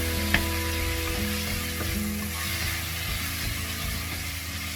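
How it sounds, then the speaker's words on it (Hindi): Tomato paste being stirred into sizzling rajma masala in a pan, with steady frying crackle and occasional spoon scrapes and clicks against the pot, close and continuous. "And again I'll be mixing it thoroughly."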